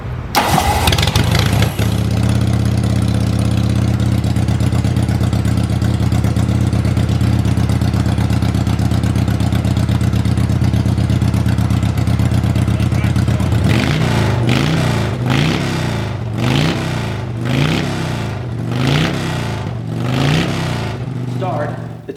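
A 1976 Harley-Davidson Shovelhead motorcycle engine, kick-start only with electrical problems, runs loudly and close with a steady deep rumble, then lumpy uneven surges of revving in the final stretch.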